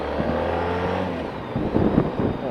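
Motorcycle engine droning steadily while riding at 20 mph still in first gear, a loud close hum with a slight rise toward the end, no talking.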